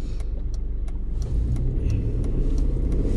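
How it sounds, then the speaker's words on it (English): A small manual car's engine runs from inside the cabin as a low, steady rumble that rises slightly partway through, with faint clicks ticking over it. "might help if you turn the engine on, mightn't it?"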